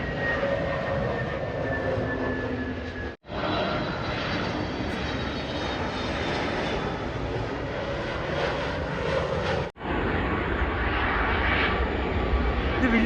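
An IndiGo airliner flies past near the Bengaluru airport railway station, a steady loud engine roar that holds for the whole stretch, broken by two brief cuts, with a voice talking faintly beneath it.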